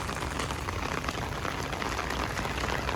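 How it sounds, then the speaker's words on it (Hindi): Heavy rain pours down in Bahria Town, Karachi, a steady, dense hiss that stays loud and even throughout with no voices. "बहुत खूबसूरत बारिश हो रही है यहाँ पे"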